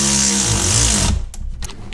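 A power driver whirs briefly as it runs screws down into a C5 Corvette rear tub, the motor cutting off after about a second, followed by faint clicks and handling noises.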